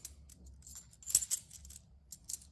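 A half dollar coin drops and rings among other coins, giving a few small bright metallic clinks and rattles, close but faint, with no voices.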